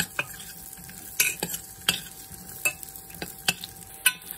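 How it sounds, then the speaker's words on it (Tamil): Raisins frying in oil in a pan while being stirred, with soft continuous sizzling under repeated sharp scrapes and clinks of a spoon against the pan, alone and close. "உலர் திராட்சை நன்றாக உப்பி வரும் வரை வறுத்துக் கொள்ளுங்க."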